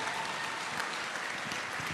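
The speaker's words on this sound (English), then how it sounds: "give them a massive round of applause" An awards-night audience applauds local music sponsors, a dense and steady wash of clapping that holds evenly for a couple of seconds with no voice on top.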